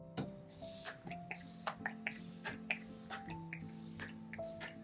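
ADDICTION glow makeup setting mist is sprayed in a series of short, soft hissing puffs at a fairly even rhythm, close by, over quiet background music.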